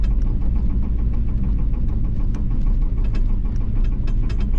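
A worn Chevrolet 454 big block V8 in a 1984 one-ton pickup runs with a bad rod knock, a steady loud rumbling drone with sharp rhythmic taps riding on top throughout, and no voices.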